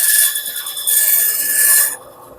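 Hand trimming of a particle board drawer part, a steady scraping rasp in two close passes separated by a brief pause, then stopping abruptly into near quiet.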